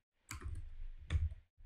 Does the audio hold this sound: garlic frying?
no